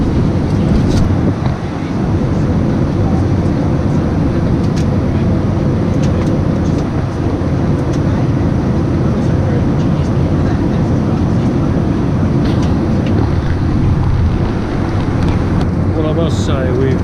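A loud, steady roar of engine and air fills an aeroplane cabin during a flight, a constant drone that runs throughout with people talking over it.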